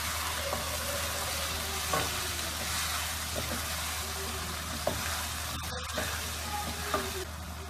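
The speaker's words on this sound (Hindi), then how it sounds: "इन सब मसालों की अच्छे से भुनाई करनी है।" Spices, turmeric among them, roast in a pan for a ridge gourd dish, with a low steady sizzle, occasional light stirring scrapes and a brief sharp clatter near the end.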